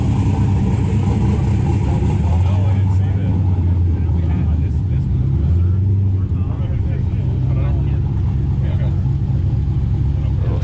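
A burnout car with an 8-into-1 header runs and revs with a loud, steady mechanical roar, while people talk close by throughout.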